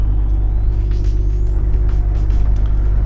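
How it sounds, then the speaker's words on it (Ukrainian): Loud, steady low rumble of a tanker truck running along a toll-free autobahn, with a constant engine drone and a faint rising whine above it, heard from inside the cab. "а сьогодні вже їдемо на вантажівці"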